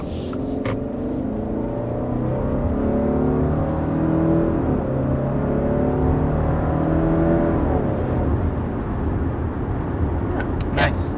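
A 2023 Subaru Outback with a CVT pulls away from a stop, its engine note a steady, rising drone heard from inside the cabin with some faint clicks and rustles throughout.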